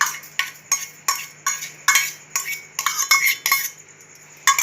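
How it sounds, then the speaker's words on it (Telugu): Peeled ripe mango pieces drop into a mixer jar for a milkshake, making a close series of sharp clinks and knocks at a quick, uneven rhythm with no talking. "ఇప్పుడైతే ఇవి వేసుకుందాం మిక్సీ జార్లో"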